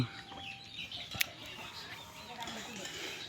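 A broody kora bird (watercock) giving soft, low clucks at moderate distance, with a sharp click partway through and faint background noise.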